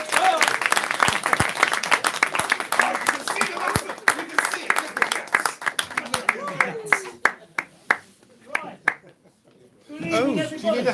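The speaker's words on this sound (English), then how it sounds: "an extra huge round of applause, please, to the Dial Up co-resident poet, Brian Scott." An audience applauds the resident poet at a Watford spoken-word night, a burst of dense clapping that thins into scattered individual claps, then gives way to voices talking close by.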